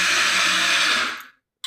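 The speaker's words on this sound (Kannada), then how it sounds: "ಇವಾಗ ಇನ್ನು ಮಿಕ್ಸಿ ಮಾಡ್ತಾಯಿದ್ದೀನಿ" A kitchen mixer grinder whirs loudly up close, grinding dosa batter of rice, urad dal, moong dal and poha, then winds down and stops after about a second.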